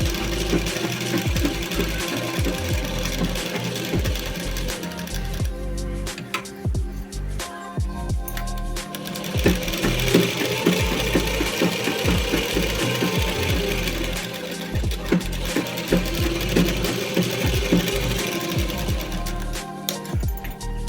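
A sewing machine runs almost continuously, stitching a square seam on a blouse, its rapid mechanical rattle loud and close with brief slowdowns along the way.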